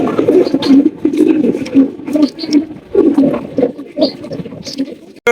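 Pigeons coo in a loft, including hens sitting on eggs, a steady run of low rolling calls repeating close by with faint background noise throughout.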